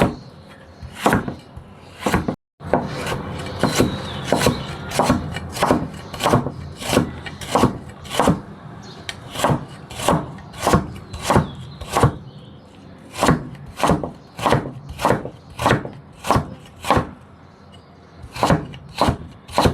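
A knife chops vegetables for dumpling filling on a wooden board, a long run of crisp, evenly spaced strikes, close and loud, with a brief pause near the start.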